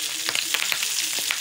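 Eggplant sizzling in hot oil in a pan, a steady bright crackle with sharp little pops and splatters scattered through a short stretch.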